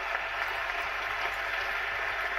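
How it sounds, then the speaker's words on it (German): A conference audience at the 36C3 Chaos Communication Congress applauds a talk, producing a steady, even wash of clapping that is fairly faint and heard without any talk over it. "großen Applaus"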